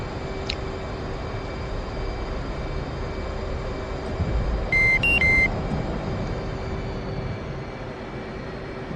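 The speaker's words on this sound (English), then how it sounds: "What is that beeping about? We're getting locked." A radar lock warning from a Mazda-free F/A-18 VR flight simulator cockpit: a short pair of high electronic beeps cuts in midway over a steady, low engine drone.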